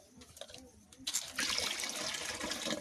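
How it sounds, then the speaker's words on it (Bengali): A little water is poured into a pan while cooking leaf-wrapped pitha over a wood-fired stove, beginning as faint trickles and then swelling into a steady, close splashing pour. "কিছুটা, অল্প পরিমাণে জল দিয়ে দিচ্ছি।"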